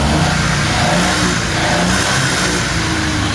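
A car engine revs loud and close after an oil change, a continuous throaty roar held steady for a few seconds.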